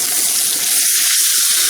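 Steak sizzling in a hot pan just after its first flip, a steady bright hiss of frying fat running continuously and close, with a few low thumps underneath.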